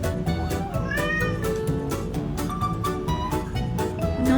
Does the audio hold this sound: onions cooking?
no